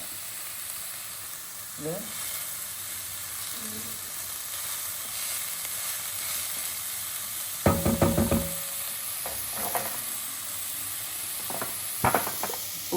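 Fenugreek leaves drop into hot oil with ground coconut and turmeric paste for methi thoran, giving a steady sizzle with bursts of crackling and stirring, while a voice speaks briefly.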